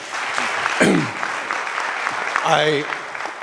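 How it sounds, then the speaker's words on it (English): An audience at an annual general meeting gives a keynote speaker another round of applause, a dense, continuous clapping with a voice speaking over it twice. "one more round of applause for you."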